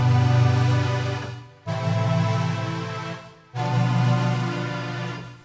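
A sustained synth pad from a Kontakt keyboard template, playing three long held chords, each swelling in and fading before a brief gap, alone with no talk.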